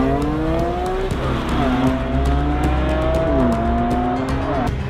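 A BMW M3 accelerates hard, its engine note climbing through several gears with shifts between them, loud and close, with a faint tire squeal under the rising roar.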